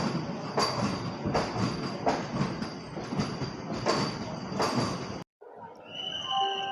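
A passenger train on the Machilipatnam Express pulls away from Gudivada station, its wheels clacking in a steady rhythm over the rails before the sound cuts abruptly and some brief tonal squeals follow.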